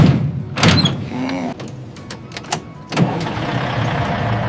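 A vehicle engine runs as a convoy hauling raw material sets off toward a factory. A few sharp door-like thumps ring out over the steady engine noise, which settles into a continuous hum.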